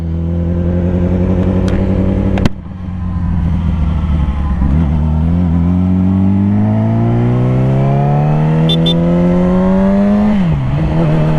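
A motorcycle engine pulls away on the road, loud and close, its pitch rising steadily through the gears with brief dips at shifts and a sharp knock early on.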